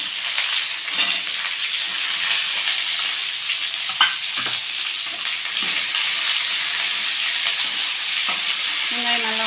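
Garlic and onion frying in a pan for onion tomato chutney, a steady broadband sizzle with occasional stirring scrapes throughout, close and fairly loud, with no voices.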